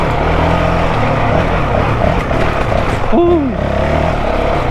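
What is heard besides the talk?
Honda CRF450X dirt bike riding on trails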